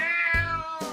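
A cat meows twice close up: a long, clear, tonal meow followed by a shorter one, with nothing else around them.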